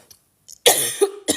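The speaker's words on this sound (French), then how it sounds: "ma gorge, elle gratte encore, donc je commence à tousser" A scratchy throat lets out a few close, loud coughs, starting with short faint throat sounds and then a burst of harsh coughs and one final cough, with no talking.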